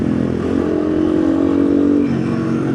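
Several motorcycles roar past fast on a winding mountain road, engines loud and close, the pitch swelling and sliding as they rev through the bend, with no talk over them.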